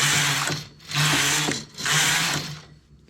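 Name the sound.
knitting machine knitting rows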